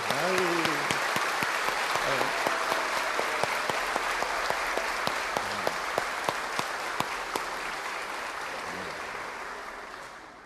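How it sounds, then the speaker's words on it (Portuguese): A church congregation at an Easter Sunday Mass claps for newly baptized children, sustained clapping with distinct sharp hand claps over a crowd murmur and some voices, slowly tapering at the end. "vamos então dar uma salva de palmas para as crianças que receberam o batismo"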